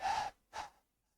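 Two close breaths into a microphone, a long sharp inhale followed by a shorter one, breathy and near, then silence.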